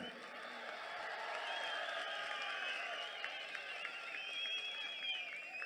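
Crowd at a large outdoor secularism rally cheering and clapping in a sustained, dense wash, with whoops and shouts rising over it and the noise holding steady throughout.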